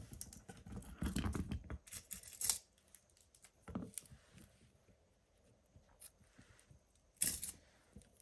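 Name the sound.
cutting off crochet yarn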